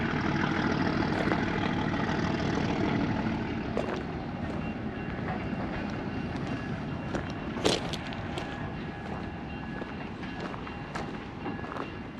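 The Durango & Silverton diesel train rolls into town with a continuous low engine rumble and rail noise, slowly easing off, broken by one brief sharp clank near the end.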